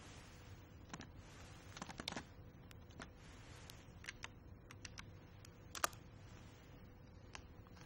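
A short search query typed on a computer keyboard: faint, close, irregular key clicks in small bursts over a quiet room hum.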